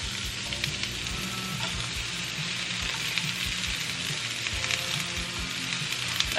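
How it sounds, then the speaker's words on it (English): Onions sizzle steadily in a pan over medium heat while fried rice is being made, a close, continuous crackling fry with occasional light scraping, no voices. "And now I'm just gonna put my onions on the pan."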